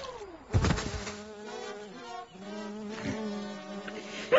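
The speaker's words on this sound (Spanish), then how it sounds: "Una abeja, Filemo." A bee buzzes close by with a steady, droning whine that rises and wavers as it moves around, heard clearly with no other sound over it.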